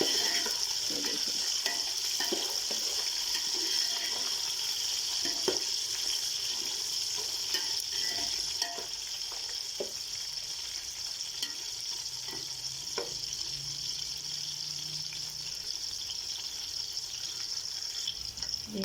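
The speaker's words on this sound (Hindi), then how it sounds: "यहाँ कितनी मज़ेदार मर्च फ्राई हो रही है, ये देखिए।" Chilies fry in a pan with a steady, continuous sizzle and crackle that stays even for the whole stretch, with scattered small pops and no talking.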